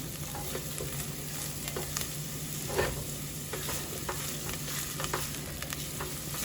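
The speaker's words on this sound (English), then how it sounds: "you're gonna saute all of these together, your onion, your garlic," Onion, garlic and thyme sauté in a hot pan, a steady close sizzle running throughout with light scrapes and stirring taps scattered on top.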